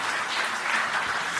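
A congregation at a church service claps for Jesus in a short, steady burst of dense applause with no talking.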